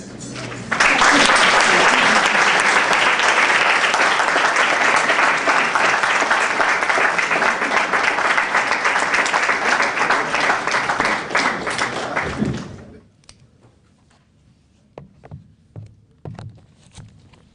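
Audience applause fills a hotel function room after a performance at a bullying prevention launch event, loud, dense and sustained for about twelve seconds before dropping away abruptly into near-quiet with a few scattered small sounds.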